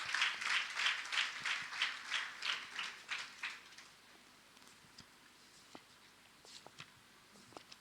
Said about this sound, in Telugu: చప్పట్లు కూడా.